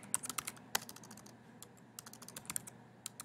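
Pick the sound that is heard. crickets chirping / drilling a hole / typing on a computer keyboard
typing on a computer keyboard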